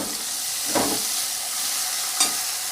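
Chopped onion fries in oil for a silver carp fish curry, a steady soft sizzle with two clear scraping stirs of a spatula through the pan.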